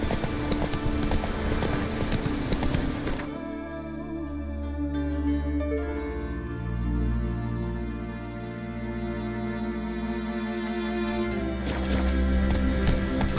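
Roach, a horse in The Witcher 3, gallops with steady clip-clop hoofbeats under game music and ambience, close and fairly loud throughout.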